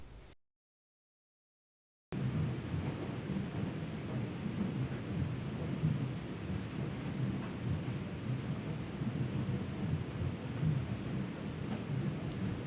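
Steady rain and rumbling thunder from an animated film's storm scene roll on continuously after a brief silence, a dense, even downpour with low rumbles underneath.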